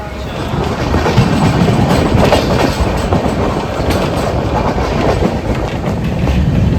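A largely empty passenger train rolls along the rails on the way toward the Sundarbans, its steady rumble and rhythmic clatter of wheels on track filling the carriage continuously and loudly, with a little faint voice beneath.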